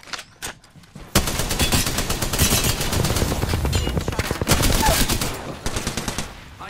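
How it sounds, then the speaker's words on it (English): Rapid automatic gunfire in a shooter video game, loud, dense and sustained after a brief quieter lead-in, with bursts running almost continuously and a voice faintly present underneath. "I am taking fire, friends."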